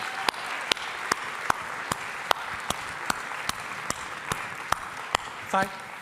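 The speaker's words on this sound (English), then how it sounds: "Could we please have a round of applause for those who have retired and are looking at retirement?" Sharp, evenly spaced claps ring out about every half second in a steady rhythm, with a sparse pattern that suggests only a few people clapping at a talk on resilience and support networks.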